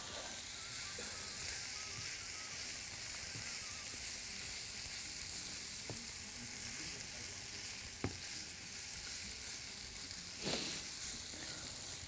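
Spices stirred in a hot pan: a steady, fairly faint sizzle of frying runs throughout, with a few sharp scrape or clink transients from stirring, no talking.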